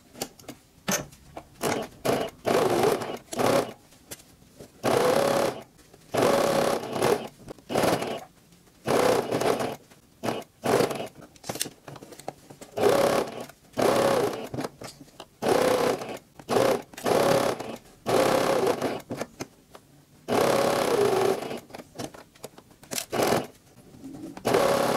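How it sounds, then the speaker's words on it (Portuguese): A sewing machine stitches a double-layer fabric face mask in repeated whirring runs of a second or two each, separated by short pauses, with a backstitch at the start; no voice is heard over the steady motor bursts. "Pezinho de máquina começa com retrocesso e termina com retrocesso."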